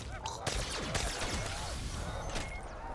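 Ray Gun Mark II firing in a video game, a quick series of zapping shots with descending sweeps over busy game noise, fairly faint overall.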